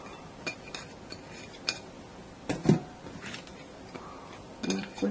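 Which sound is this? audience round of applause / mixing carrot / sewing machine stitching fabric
mixing carrot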